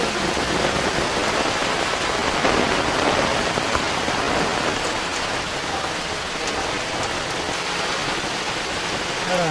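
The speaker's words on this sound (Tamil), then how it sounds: "மழை இங்க ஊத்திட்டு இருக்கு" Rain pouring down in a village on a rainy day, a dense, steady hiss of drops on surfaces running unbroken throughout.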